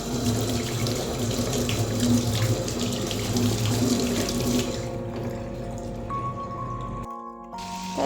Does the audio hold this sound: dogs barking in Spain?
no